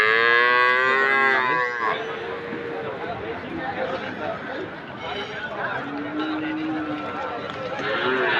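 Sahiwal Burma breed calf at a busy cattle market, a loud drawn-out moo at the start, then another lower call amid crowd noise and nearby voices talking.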